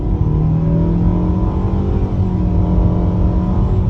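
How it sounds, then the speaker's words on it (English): A 2022 Mitsubishi Outlander Black Edition accelerates onto a highway, its engine droning loud and steady with a low hum and road noise throughout, heard from inside the cabin with no talking. "Stepping onto this highway on the gas"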